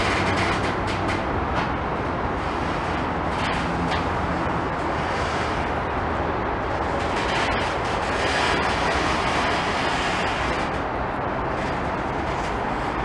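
A Class 70 diesel locomotive works a freight train in a steady, loud roar with rumbling engine and rail noise lasting throughout, close by and without talk.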